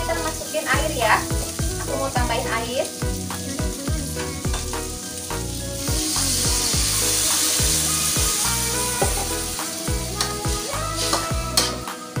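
Tempeh and long beans sizzling steadily in a pan, loud and close, with a rhythmic series of spatula scrapes and stirring strokes over the constant frying hiss.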